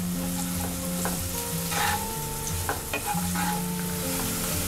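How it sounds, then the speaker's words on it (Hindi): Chopped onion with salt sizzles steadily in a hot pan while a utensil stirs it, with scraping and clinks over a continuous close frying hiss and no voices. "नमक से प्याज बहुत जल्दी पक जाती है, हमें इसे थोड़ा पकाना है सिर्फ"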